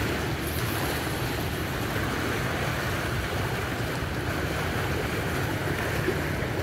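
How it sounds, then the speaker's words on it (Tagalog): Strong waves wash against the shore of Cong Dadong Dam in Arayat while people fish, a constant broadband roar of surf mixed with wind buffeting, steady and unbroken with no talk. "Lakas ng alon doon, no?"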